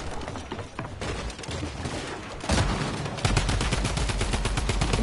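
Fortnite gunfire, including a sniper rifle, as dense rapid bursts of shots that grow louder and more continuous midway, with no talk over them.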